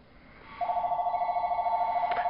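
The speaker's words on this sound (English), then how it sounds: "Hold on a second, my phone's ringing." A mobile phone rings close by, a steady warbling electronic trill that pulses rapidly and continuously, with a quiet background hum beneath.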